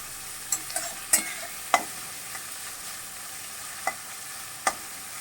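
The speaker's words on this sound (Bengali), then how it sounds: "আমি হালকা করে ভেজে নেব আমি আঁচটা মাঝারি করে দিলাম হালকা ব্রাউন করে ভেজে নেব" Chopped onions frying in a pan over medium heat until light brown, a quiet background sizzle broken by several sharp clicks and scrapes of stirring.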